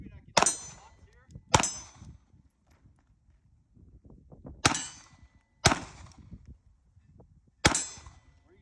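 Pistol shots fired on a tactical shooting course while the shooter moves: five sharp, loud cracks at uneven intervals, each with a short ringing decay, with faint shuffling steps between them.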